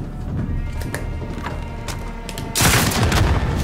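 A rocket launcher explosion in Call of Duty: Modern Warfare Special Ops hits as a sudden loud, broad blast near the end, following a stretch of scattered gunfire and rumbling battle noise.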